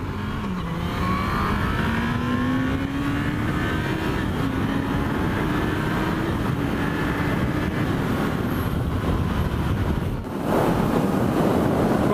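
A Yamaha R1 motorcycle at speed sends out a steady engine drone buried in heavy wind rush, the pitch shifting gently as the ride goes on, with a brief dip and a louder surge near the end.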